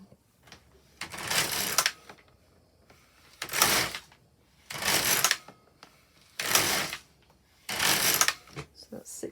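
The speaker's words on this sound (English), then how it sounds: "I'm going to knit 6 rows on alternate needles" Brother LK150 knitting machine carriage knitting a hem on alternate needles, five loud broadband swishing passes in steady rhythm, each about a second long, close to the mic with short quiet gaps between.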